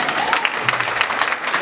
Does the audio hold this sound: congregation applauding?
yes